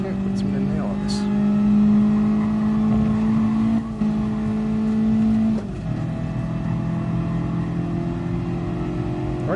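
A car engine in the Gran Turismo Sport racing game holds a steady droning rev, then drops pitch with a downshift midway, while a voice talks over it loudly.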